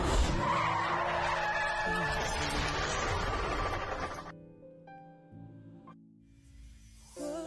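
A truck skids in a road accident, a loud sustained screech of tyres for about four seconds, then cutting off into quieter tonal sound.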